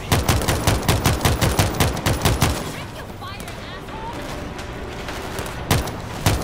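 Rapid bursts of automatic gunfire from a World War Z zombie shooter in Marseille, dense and loud for the first few seconds, then sporadic single shots over a busy background with a voice speaking.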